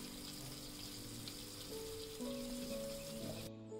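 Chicken fries in oil in a mini kitchen, a steady soft sizzle and crackle that stays even and fairly faint throughout, cutting off abruptly at the end, with no talk.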